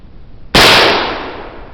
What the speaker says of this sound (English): homemade musket cap.